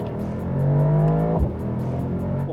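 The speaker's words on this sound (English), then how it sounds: "this is the kind of soundtrack you can enjoy" Mercedes-AMG SL 55 roadster exhaust in manual mode, accelerating with a rising throaty engine note that climbs steadily, then drops sharply on a shift before building again, loud and close with no talk.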